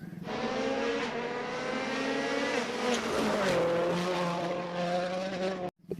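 A toy race car gives off a continuous whining motor tone that shifts pitch up and down like revving, steady and fairly loud for about five seconds before stopping suddenly, with a short rattle after.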